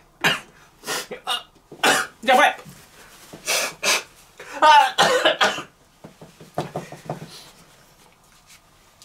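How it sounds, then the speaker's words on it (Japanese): Repeated harsh coughing fits after eating extremely spicy Peyang curry noodles, several bursts in quick succession, followed by breathy gasps and a few spoken words. "咳やばい、咳やばい"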